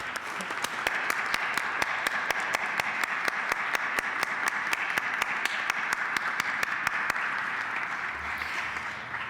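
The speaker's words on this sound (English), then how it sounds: "Round of applause to the captain of our ship." Audience at the SSC Expo 2014 closing ceremony applauding the organiser, steady hall clapping with a regular rhythmic pulse of unison claps running throughout, moderately distant and without speech.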